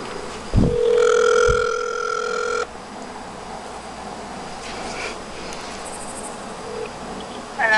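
Telephone on speakerphone producing a steady tonal ring of about two seconds after a couple of thumps, then quiet room hiss with faint electronic chirps.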